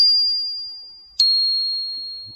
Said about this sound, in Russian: У нас есть еще колокольчики, да?